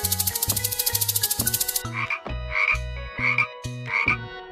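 A frog calls loudly and up close: first a rapid string of pulsing croaks, then several slower, deeper, throaty croaks spaced apart.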